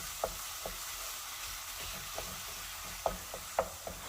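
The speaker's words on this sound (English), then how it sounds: "Now I'm going to add my pound of lean ground beef, and it's going to go right into the pan." Lean ground beef frying in a pan for Mexican-style carne con papas, a low steady sizzle with scattered sharp clicks of a utensil breaking up the meat, clustering toward the end.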